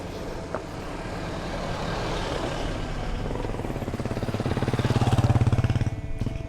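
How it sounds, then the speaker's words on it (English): A vehicle approaches a campsite in Tanay, its engine rumble building steadily and growing loudest near the end, with no talk over it. "So there's a car going towards here."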